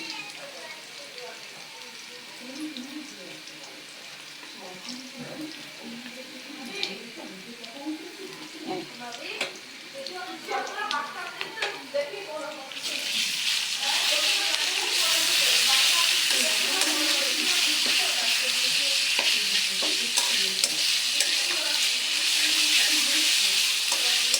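Onions sizzle and fry in a pan as they brown, with ginger and garlic added, stirred with spatula scrapes for a village-style rohu fish and eggplant curry; the sizzle swells into a loud, steady hiss halfway through, with no talk.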